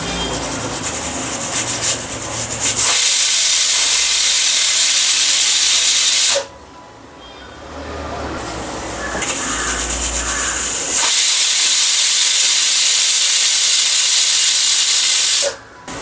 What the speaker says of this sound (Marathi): चला तर मग आता 3 शिट्ट्या करून घेऊयात.